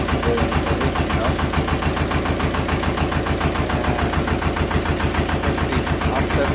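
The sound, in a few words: 1960s Pasquali tractor engine starting and running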